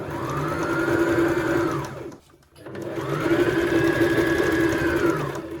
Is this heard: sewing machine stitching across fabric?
yes